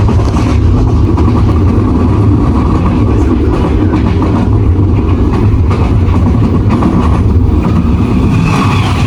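An economy-class passenger train runs from Yogyakarta toward Jakarta, a loud, steady rumble of wheels and carriage noise filling the interior without a break.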